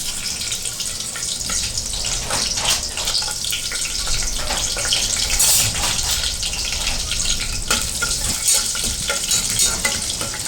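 Cumin and spices fry in hot oil for beetroot rice, making a loud, continuous, hissing sizzle with crackle and occasional stirring scrapes, with no talking.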